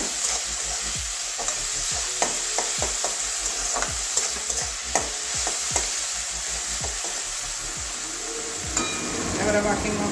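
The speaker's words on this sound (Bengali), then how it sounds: "এবারে আদা রসুনের পেস্টটাও দিয়ে দিচ্ছি একসঙ্গে গ্রেট করে নিয়েছি এটাও ভেজে নেবো" Grated ginger-garlic paste frying in a pan for a fish roe dish, a bright steady sizzle with repeated spatula scrapes and taps against the metal, close and busy throughout.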